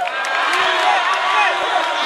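Festival crowd cheering, whooping and applauding for a guitarist at a live DJ concert at Climbie Beach in Assinie, a dense steady roar of voices and claps with some shouting voices mixed in.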